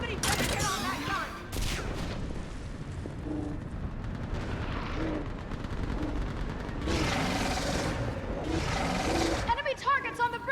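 Gunfire and explosions in Mass Effect 3 rage through a combat scene, with dense bursts and booming blasts running under game dialogue and shouted voices nearly the whole time.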